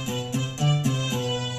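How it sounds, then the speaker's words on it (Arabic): Violin and oud voices layered together on a Yamaha PSR-A5000 arranger keyboard, sustained melodic tones with several note changes over a short phrase, steady and moderately loud with no talking. "هذا صوت الكمان بروحه، وهذا صوت العود بروحه"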